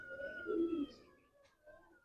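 Chini pigeons of the Binder bloodline coo softly in a brief, low, throaty call, fairly faint and with no talking.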